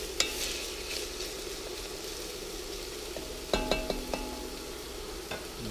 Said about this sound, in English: Make sure you're occasionally stirring this up so they don't stick